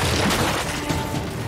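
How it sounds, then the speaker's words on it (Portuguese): A fragmentation grenade blast in the video game Gears 5: a loud, dense, roaring burst of noise fills the whole moment, with rumbling debris and crackle sustained throughout. "Jogando granada de fragmentação! Granada de fragmentação!"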